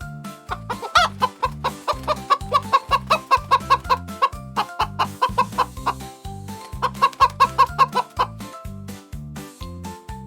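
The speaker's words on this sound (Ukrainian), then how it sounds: "Хто це з нами так розмовляє? Це квочка." A hen clucking repeatedly in a steady, rhythmic series of short calls, close and clear, with a gentle rise and fall in the pattern.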